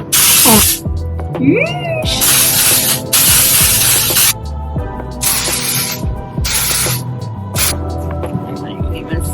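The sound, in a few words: hair texture spray being sprayed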